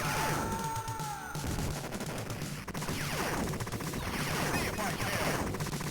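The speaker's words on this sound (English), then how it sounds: "Firing rockets into Hitler's face." Rocket fire in the arcade shooter Total Carnage, aimed at Hitler, comes as rapid, dense bursts of blasts and explosions in a continuous barrage, with game music and effects layered over it.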